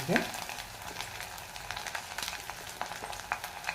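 Garlic and cumin seeds frying in hot oil give a steady, close crackling sizzle with scattered sharp pops, continuous throughout and with no talk over it.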